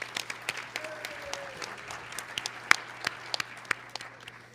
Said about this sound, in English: have everybody give a round of applause to everybody who presented today